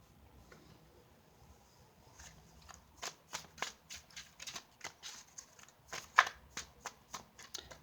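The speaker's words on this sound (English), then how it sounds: "Let me draw one more card." Tarot cards being drawn and flipped from a deck during a Leo reading: a quiet run of crisp card snaps and slides that grows busier, with one sharper flick near the end, close and alone.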